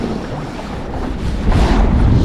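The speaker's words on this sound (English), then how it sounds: "These are big waves." Big waves slap against a small fishing boat out on a lake, a steady rough wash of water and wind buffeting that swells louder toward the end.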